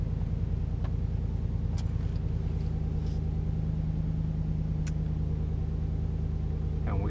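A Dodge Ram 1500 pickup drives along with a steady, low engine rumble and road noise heard from inside the cab, joined by a few faint clicks.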